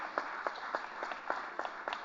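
Scattered claps from an audience at the INFOCOM Future Leadership Awards 2016 ceremony, honoring award winners; a handful of distinct hand claps recur at an irregular rhythm against a steady room murmur, fairly faint and distant.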